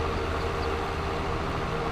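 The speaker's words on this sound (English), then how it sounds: "But we always hop onto the train and enjoy the ride." A train ride in a video game: a steady rumbling rail drone with a faint tonal hum, continuous and even throughout, with no speech.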